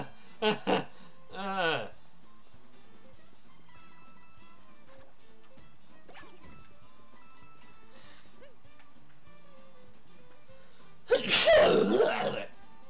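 A sharp, loud sneeze bursts out near the end after a stretch of near-quiet, with a couple of brief bursts of sound at the start.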